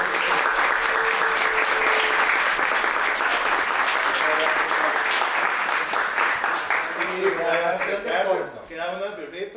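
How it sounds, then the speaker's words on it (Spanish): Group applause at an informal evening gathering in a dormitory, steady dense clapping filling the space for several seconds before tapering off as voices rise over it. "Y un aplauso así."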